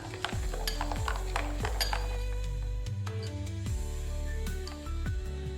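A spoon scraping and clinking against a pot while garam masala and chaat masala are stirred into mutton gravy, with repeated metallic taps and a faint sizzle underneath, and no talking.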